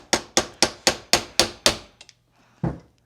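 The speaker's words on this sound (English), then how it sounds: "And then I'll just give it a nice little love tap." A hammer taps a socket seven times in a steady, even rhythm while seating a part during repair of a Royal PowerCast 9000 vacuum. Each sharp metallic knock is close and loud, followed by a few faint clinks and one duller final knock.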